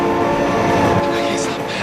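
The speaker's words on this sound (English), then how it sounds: "Oh my god, train!" A train rolling past in BeamNG.Drive, a loud close rumble with sustained horn-like tones throughout the short burst, steady and dense.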